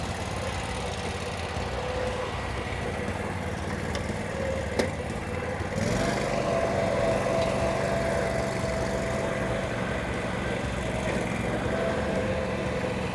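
Vermeer RTX250 walk-behind trencher engine running steadily at a low, rough idle, then stepping up to a slightly louder, higher hum midway, with a brief click before the change; no talk.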